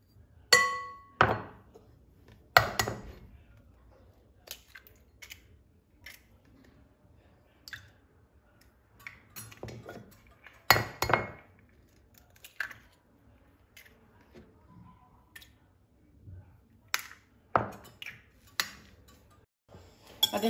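Three eggs are cracked into a glass bowl while making mini waffles, giving sharp separate taps and clinks against the glass with soft squishy sounds in between, fairly close and quiet, with no talking.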